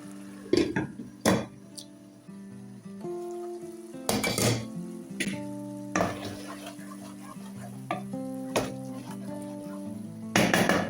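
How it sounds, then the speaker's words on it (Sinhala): A spoon stirs zucchini risotto in a pot, the metal scraping and clinking against the sides in irregular bursts, with sharp louder knocks at a few points and soft bubbling in between, close up and with no talking. "නිතරම හැඳි ගන්න අවශ්‍යයි."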